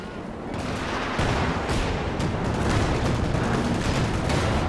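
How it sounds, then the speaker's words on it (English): White phosphorus and mortar shells land in Company of Heroes 2, a dense, continuous barrage of explosions and gunfire that starts slightly softer and swells into a loud, unbroken rumble of impacts. "Just dropping white phosphorus down and mortar shells."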